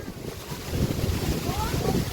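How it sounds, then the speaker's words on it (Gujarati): Strong sea wind at the Gopi Talav ghat near Dwarka buffets the microphone in a steady, loud roar, with a faint voice in the background. "જોરદાર પવન છે હો."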